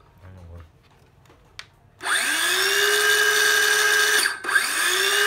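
After a few soft handling noises, a cordless circular saw whirs up to a loud, steady high-pitched whine, dips briefly, then spins back up.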